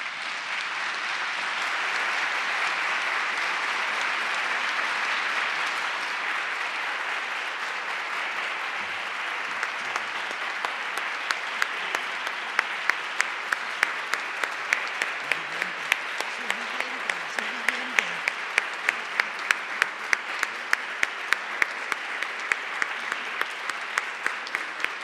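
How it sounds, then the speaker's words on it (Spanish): An audience gives a sustained ovation after a lecture by writer Almudena Grandes, loud continuous clapping that thins out toward the end into scattered individual claps. "Esta ovación no significa que nos vamos"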